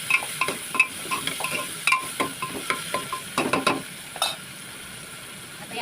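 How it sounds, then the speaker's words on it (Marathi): Tomato and onion fry in oil in a pan for a dry sprouted-legume vegetable dish, with soft sizzling under repeated spatula scrapes and clinks that come in irregular bursts before easing off. "मी टमॅटो आणि कांदा एक एक घेतला होतं ते सर्व छानपैकी तेलामध्ये पसरून घ्यायचं"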